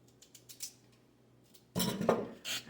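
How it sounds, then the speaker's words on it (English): A knife cuts up a carrot on a board, a few soft taps, then a louder run of crisp chopping and crunching knocks close by, with no talking. "I'm going to cut up just one carrot"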